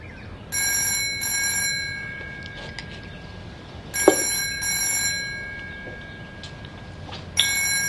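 A landline telephone trills in repeated bursts in a 1988 Australian TV drama, three rings spaced evenly, bright and near, with faint room sounds between them and no speech.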